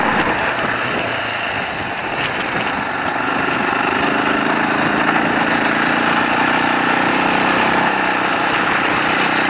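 An ATV engine runs steadily while riding down a sandy desert wash among boulders, a loud continuous rumbling drone with slight vibration and no breaks, close to the listener throughout.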